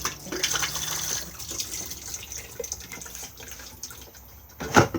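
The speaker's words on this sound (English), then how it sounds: "push the flush on the top" A Thetford caravan toilet flushes with a continuous rush of water, close and moderately loud, followed by a short louder gurgle at the end.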